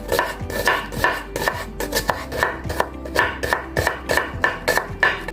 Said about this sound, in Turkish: Soğanlarımı beyazlık dediğiniz şekilde ince ince doğrayacağım.